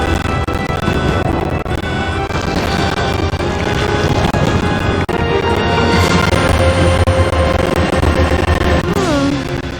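A train in the 1998 Resident Evil 2 game rumbles steadily along, a dense, loud mechanical roar with clanking and a sustained low drone throughout, ending with a brief screeching squeal.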